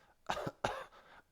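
A person imitates a neighbour's heavy retching cough with two harsh, forceful coughing bursts in quick succession, close and fairly quiet, without speech.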